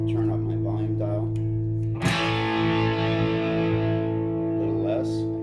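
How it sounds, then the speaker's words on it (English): Electric guitar played through distortion with the volume dial turned up, a sharply struck chord ringing out gritty and sustained, fading slowly after a few quieter picked notes. "If I need a little more distortion, I can turn up my volume dial."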